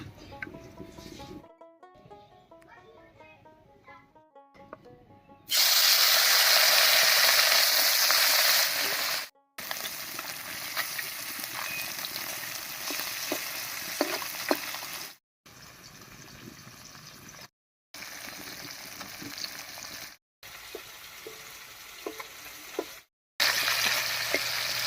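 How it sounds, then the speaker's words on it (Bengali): Small fish frying in mustard oil in a wok, a steady sizzling hiss that keeps breaking off and resuming, loud and close with no one speaking. "মাছ ভাজার জন্য কড়াইতে দিয়ে দেব সরষের তেল।"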